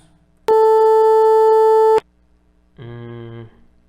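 A steady synthetic tone holds for about a second and a half, then after a pause a shorter, lower buzzy tone sounds; flat and electronic, not quite piano-like.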